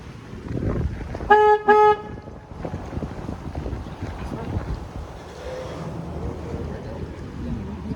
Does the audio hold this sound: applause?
no